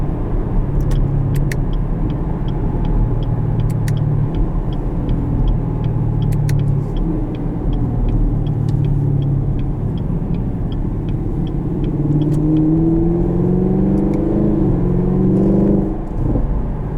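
A 2020 Chevrolet Camaro SS with a 10-speed automatic accelerates steadily, its deep engine rumble building and rising in pitch toward the end, heard continuously from inside the cabin.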